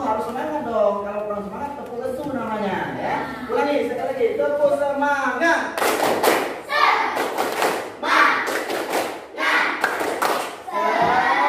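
Classroom of schoolchildren doing a rhythmic spirit clap together, with loud sharp broadband claps arriving in bursts after a stretch of group chanting and voices.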